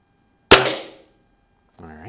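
An Anschutz model 335 springer air rifle fired at the range: one sharp, loud crack that rings and fades over half a second, followed by a brief voice.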